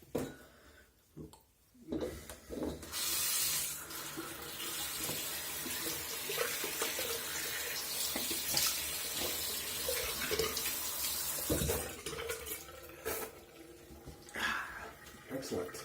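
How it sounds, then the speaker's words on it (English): Cold tap water runs into a sink and is splashed onto a face after shaving, a steady rushing hiss with irregular splashes, brief pauses near the start and around twelve seconds, with a few faint voice sounds. "I'm gonna throw a little cold water on that."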